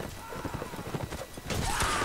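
A horse in a video game, rapid clip-clop of galloping hooves across the whole stretch with a whinny rising near the end, set under light game ambience.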